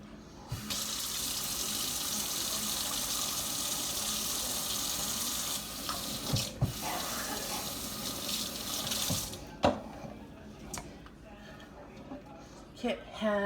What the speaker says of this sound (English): we need this spoon again, so let's go and wash it